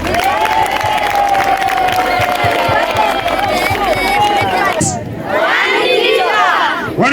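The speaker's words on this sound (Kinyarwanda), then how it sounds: "mwehe amashyi" Schoolchildren and audience at a genocide remembrance talk in a Rwandan school cheer and shout loudly as a crowd, with applause mixed in, a sustained dense roar that dips briefly before swelling again.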